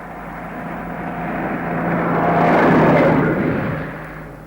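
A lorry passes along a road, its broad engine rumble swelling as it nears, peaking, then fading away, with no voices.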